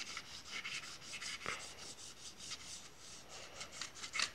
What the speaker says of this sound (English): To sand the surface, I took a piece of glass and wrapped it with sandpaper.